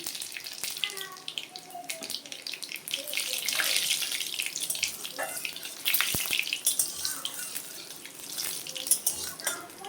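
Black cumin and radhuni seeds sizzle and crackle in hot oil in a pan, a busy, fairly loud frying hiss with scattered pops that carries on steadily throughout.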